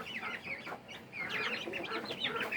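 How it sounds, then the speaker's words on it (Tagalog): Ducklings, Rhode Island chicks and native chicken chicks in a brooding cage give continuous high, close peeping and cheeping, overlapping chirps with small clucky notes and no pauses. "Mga ducklings, Rhode Island chicks at saka native chicken chicks."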